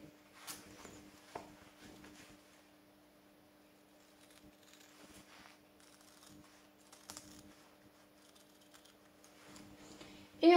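Scissors snip around a rounded curve of a paper sewing pattern piece for a shoulder bag, making soft, sparse cuts and rustles up close with long quiet gaps.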